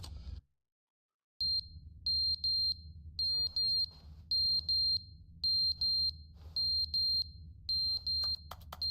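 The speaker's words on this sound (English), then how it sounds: "Fire alarm." Fire alarm in the video game The Stanley Parable beeping in repeated pairs of sharp, high electronic tones, steady and fairly loud over a low hum after a brief silent gap.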